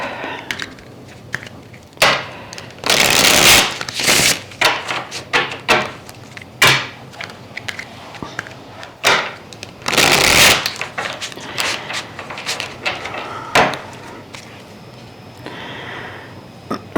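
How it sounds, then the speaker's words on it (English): A deck of tarot cards is shuffled in repeated bursts, crisp riffling flutters and soft slides coming close and loud at irregular intervals, with quieter handling taps between them and no speech. "We just need like one or two more shuffles before it feels like the deck is ready"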